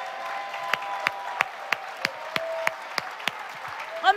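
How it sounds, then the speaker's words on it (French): A church congregation claps in sparse, irregular individual claps during a French worship service, soft crowd murmur and sustained tones underneath, with a swell of clapping and voices rising at the end. "Est-ce qu'on peut applaudir le Seigneur pour le Saint-Esprit?"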